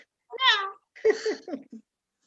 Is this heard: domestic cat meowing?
yes